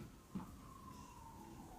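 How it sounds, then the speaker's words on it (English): A faint siren wails outside, far off. Its thin tone slowly glides and wavers beneath a quiet, muffled indoor background, with a soft knock near the start. "Of course, there's more sirens"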